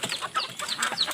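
A laying hen clucks in a few short, close bursts, with other chickens and ducks kept nearby; the calls are quiet and brief.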